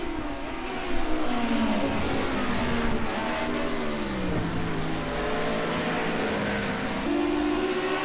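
Cosworth Group A touring car at Bathurst accelerating hard down the straight, engine note climbing through the gears with a brief dip at each shift, loud and close, with constant roar throughout.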